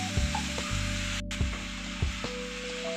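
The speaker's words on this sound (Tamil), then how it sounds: "நான் பொடியானவெல்லாம் அப்படியே வதக்கிக்கிறேன்" Finely chopped mushrooms sautéing in a hot pan for mushroom matar gravy, a steady soft sizzle with a few light clinks of a spoon stirring against the pan.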